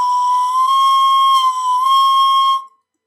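Pan flute plays a single high note with tightened lips, a pure sustained whistle-like tone with a breathy edge that holds steady for about two and a half seconds before stopping.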